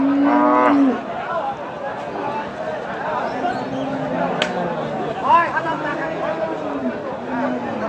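Beef cattle at a village cattle market, including Sahiwal and Holstein Friesian types, low drawn-out moos repeating close by and farther off, with market chatter in the background.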